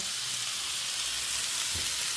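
Steady, loud sizzling of potatoes and rolled pork belly frying in two hot pans, a continuous crackling hiss close by, with a brief low clunk near the end.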